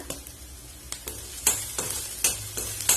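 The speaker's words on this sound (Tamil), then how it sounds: "ஹை ஃபிளேம்லயே வச்சு வதக்கிக்கோங்க." Soya chunks and vegetables sizzling in a hot pan on high flame with repeated scraping and clacking strokes of a spatula stirring, close up, with no talking.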